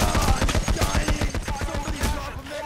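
Rapid bursts of gunfire from the video game Payday: The Heist crackle in quick succession, loud and dense, with shots overlapping throughout.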